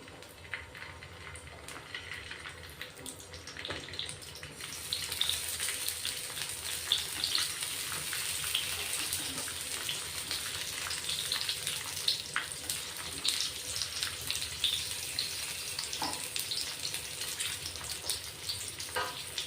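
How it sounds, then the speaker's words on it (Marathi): Stuffed green chilies sizzling in hot oil in a pan, a steady crackling fry that grows louder partway through, with occasional pops and no voices. "गरम झालंय तेल आपण मिरची ठेवून घेऊ आता"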